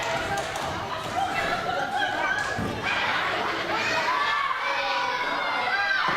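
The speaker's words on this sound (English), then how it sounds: "And this crowd firmly behind Sara." A wrestling crowd at a championship show cheers and shouts in a loud, continuous roar, with children's voices and occasional thuds in the mix.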